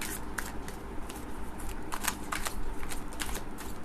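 Tarot cards shuffled steadily by hand, a continuous close papery riffling and slapping with brief crisp bursts, no talk.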